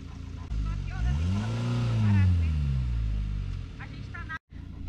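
A car's engine revs hard while stuck in very soft sand at Lençóis Maranhenses, its pitch swelling and falling over several seconds, close by and loud, with a brief cut near the end.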